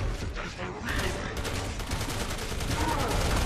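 Gunfire in Resident Evil 6, a rapid series of sharp gunshots in quick bursts over dense game sound, loud and close, with some voice mixed underneath.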